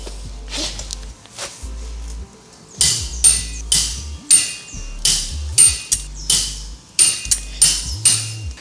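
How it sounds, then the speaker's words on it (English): Lug nuts are tightened on the wheel of a Mercedes W212 E63 AMG, making a series of sharp metallic clicks and knocks at a fairly even pace with short pauses between them, close and fairly loud. "So you do want to definitely torque down your lug nuts here."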